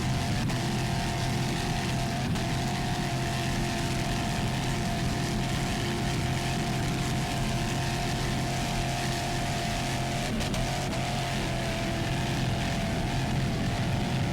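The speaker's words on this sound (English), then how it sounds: "Nice throttling there by Ray Delaney." Racing powerboat engine at the APBA World Championships, throttling steadily with a continuous loud drone and broad roar that holds level throughout, with no talk over it.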